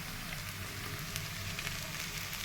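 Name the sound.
dried fish frying in oil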